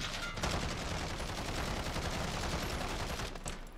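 CR-56 AMAX rifle fired in Modern Warfare, a sustained burst of rapid automatic gunfire lasting several seconds, loud and close, ending abruptly.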